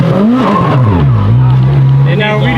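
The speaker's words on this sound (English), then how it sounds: "Hey, it did a burnout" A Honda NSX engine drones loud and steady, its pitch dipping and climbing as it revs hard through a burnout, with people talking over it.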